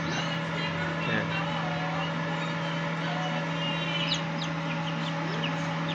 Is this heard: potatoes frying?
no